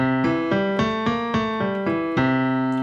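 A piano repeats a low, steady left-hand blues pattern, chords struck in an even rocking rhythm about every quarter second, clear and alone.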